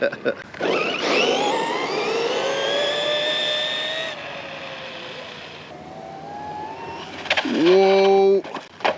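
An Arrma Quake RC car at a skate park screams up through rising motor whine at full throttle, then drops off, with a sharp tonal burst near the end. Excited voices are heard around it.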